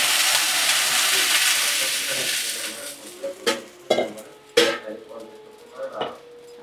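Cumin seeds, green chili and ginger crackle in hot white oil with a loud, steady sizzle, then fade to scattered clinks and scrapes of a utensil against the pan.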